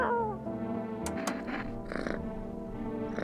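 Soft purring from a video game cat while it is being petted, a low continuous rumble with a brief meow at the start and a few light clicks over steady background music.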